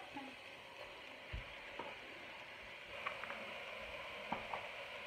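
Meat added to a pan of translucent frying onions for chili con carne gives a faint, steady sizzle, with a few soft stirring knocks and utensil scrapes against the pan.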